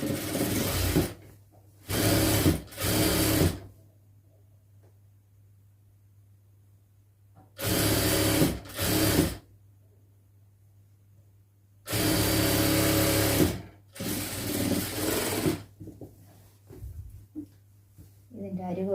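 A sewing machine stitches the hem of a lined churidar in three short runs of rapid whirring, separated by quiet pauses over a faint steady hum.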